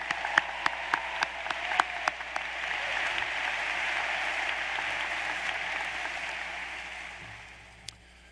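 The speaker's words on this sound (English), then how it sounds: "Give yourselves a round of applause." Students at a University of Tulsa matriculation ceremony applaud in a sustained, fairly distant wash of clapping, with a few sharp individual claps standing out at the start before the applause slowly fades.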